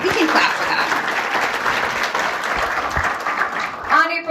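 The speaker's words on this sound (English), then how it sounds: "Yeah, we can clap for that." Audience applause at a chamber of commerce business breakfast, a steady wash of clapping from a room full of people that holds for several seconds before fading as a voice resumes near the end.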